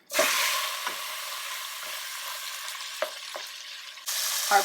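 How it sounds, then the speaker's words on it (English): Pork chunks browning in about a tablespoon of olive oil over high heat sizzle loudly and steadily after a soft start, with a few brief stirring clinks and a louder burst of sizzle near the end. "I've heated about a tablespoon of olive oil over high heat, and now it's time to add our pork to brown"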